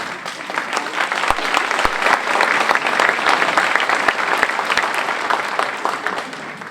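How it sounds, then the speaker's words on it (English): An audience at a ninth-grade spring choir concert claps steadily and enthusiastically for a scat soloist, a dense wash of applause with a few sharp louder claps standing out, tapering slightly at the end. "Round of applause for the scat soloist making that up on the spot."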